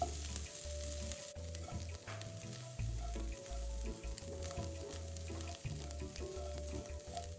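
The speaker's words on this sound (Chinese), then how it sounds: "腊肠煸一煸香" Chinese sausage stir-frying in a wok after dried shrimp, for lotus leaf rice: a continuous hiss of sizzling fat under a low, steady background hum, with occasional faint scrapes and no voices.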